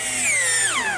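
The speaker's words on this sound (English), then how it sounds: "I'm using screws, being sure to pre-drill some holes." Power drill boring pilot holes into oak for screws, a steady high whine with a pitch that slides downward as the bit bites into the wood, close and loud with no talking.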